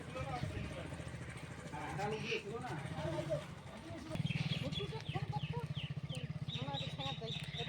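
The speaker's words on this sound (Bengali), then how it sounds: "এই যে পিছনে আবার বাইক আসছে।" A motorcycle comes up from behind along a riverside path, its engine drone swelling louder in the last few seconds, while people talk nearby and chickens cluck in the background.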